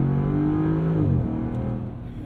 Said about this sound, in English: 5-liter supercharged V8, 518 horsepower, 461 foot-pounds of torque